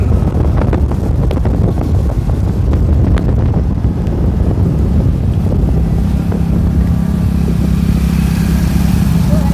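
Hero Splendor motorcycle ridden in the rain, a loud continuous engine drone buried under heavy buffeting wind noise against the microphone, close and steady throughout, with voices talking over it.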